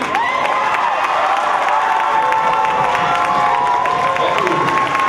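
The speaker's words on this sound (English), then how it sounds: "And now give a hand of applause to your MCSC champion" School assembly crowd in a gym cheering and clapping for a champion, a loud continuous roar of young voices with shouts and whistles over scattered applause throughout.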